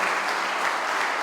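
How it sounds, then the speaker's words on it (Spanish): Guests at a book event in honour of a typographer's legacy clap loudly for the author's family. The applause is dense and sustained throughout, a thick, even roar of many hands with no talk over it. "quiero que les brindemos un fuerte aplauso a todos los familiares de nuestro querido autor"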